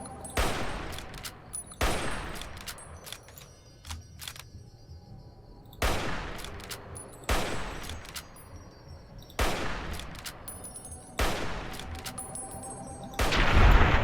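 Gunshots fire in Fallout New Vegas in hardcore mode: sharp, loud single cracks come at irregular intervals of one to two seconds, each with a short echoing tail, and no voices are heard.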